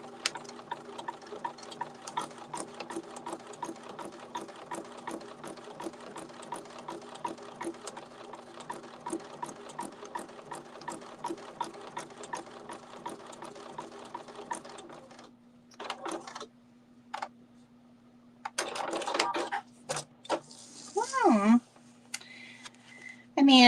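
A sewing machine stitches free-motion appliqué for a holiday project in a fast, even mechanical chatter. It runs steadily, then stops and starts in short bursts, with someone talking near the end.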